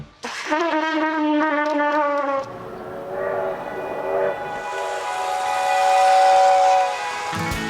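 A train sounds a long, loud whistle with layered tones, then its pitch and timbre shift as rail and engine noise carries on steadily underneath.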